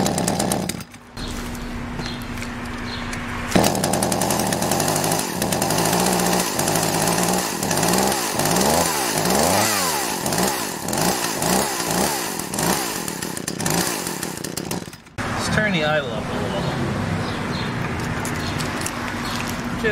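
An Echo CS-400 chainsaw with a newly installed carburetor starts and runs loudly up close, its engine revving and dipping in repeated surges before cutting out briefly and then restarting.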